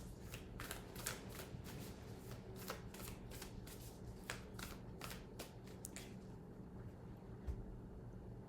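Tarot cards are shuffled over and over, a run of quick riffling bursts over a steady low background hum that thins out toward the end.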